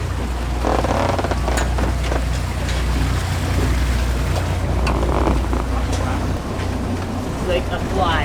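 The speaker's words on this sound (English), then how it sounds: "So we're going to take the ferry over, stay overnight, and take the ferry back" A ferry cruises toward Flowerpot Island in strong wind, its engine droning low beneath gusty wind noise and water rush, with scattered knocks and voices talking on board.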